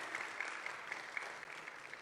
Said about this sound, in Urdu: زوردار تالیوں میں ہم ان کی شکر گزاری کریں گے